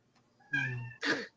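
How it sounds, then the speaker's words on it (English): A domestic cat lets out two close, fairly loud meows in quick succession: a long, drawn-out, tonal first call followed by a shorter, brighter one, with no talking around them. "she'll just keep meowing at me"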